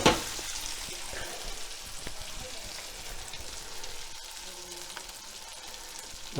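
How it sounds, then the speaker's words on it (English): Gnocchi searing in butter with pancetta in a pan, giving a steady, close sizzle with faint crackles and occasional stirring scrapes throughout, with no talk over it. "I'm just going to get them in that butter and that porky goodness, salty porky goodness. Just let that sear up there for a bit."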